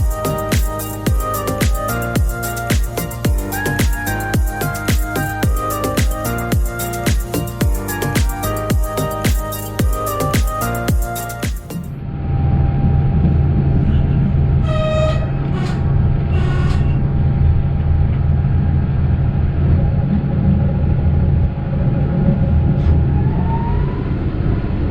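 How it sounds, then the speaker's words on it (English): A Döllnitzbahn railcar on the move: about twelve seconds of loud, dense rhythmic clatter with tonal whine, then a steady low rumble broken by a few short high squeals or toots, continuous and close with no speech. "we can listen to the sound of this very interesting railcar"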